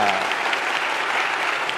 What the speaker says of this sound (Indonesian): Tepuk tangan untuk Mas Andri.